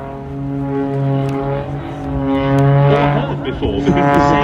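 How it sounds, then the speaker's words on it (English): Biplane fitted with two added jet engines performing at an airshow, a loud, steady droning roar with strong tonal whine that swells toward the end as the aircraft passes close. "the sound of a biplane making jet noises is just something else"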